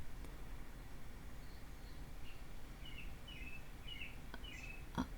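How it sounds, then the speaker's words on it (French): Small birds chirp and sing faintly outside an open window, brief scattered high calls over a steady low room hiss. "Entendez-vous les petits oiseaux derrière moi?"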